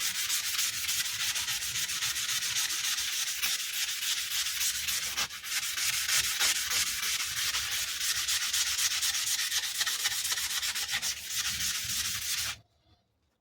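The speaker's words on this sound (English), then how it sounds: "Let's just go straight at it with a bit of sandpaper and see how this sands off." Sandpaper scrubs rust off an old kukri blade in a fast, continuous back-and-forth rasp, close and steady, with a brief pause partway through, then stops abruptly.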